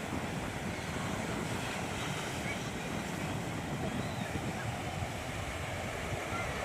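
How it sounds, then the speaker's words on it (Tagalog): Strong, steady sea wind blows across a seawall at sunset in Barangay Pilar, Bawang, La Union, making a continuous roaring rush against the microphone with no talking. "Lakas ng hangin, presko."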